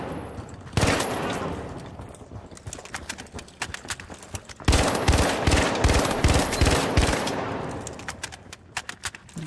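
Rapid automatic gunfire on a practice range in the Marathon video game, with dense bursts of shots separated by short pauses, loud and close, and no talking.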